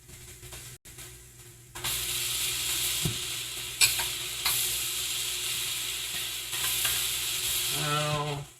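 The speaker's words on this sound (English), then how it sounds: "we want to go ahead and let these mushrooms start to cook down and release all that moisture they've got inside of them" Mushrooms cooking down in a pan for a white pizza, sizzling and hissing steadily at close range, with occasional clinks and scraping stirs and a brief ratcheting click near the end; no one talks.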